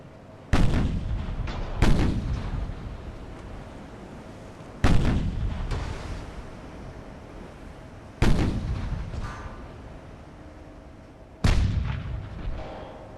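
Naval artillery in the warship game Ultimate Admiral: Dreadnoughts fires five heavy booming salvos at uneven intervals, each loud blast rolling off into a long decaying rumble, with no voices.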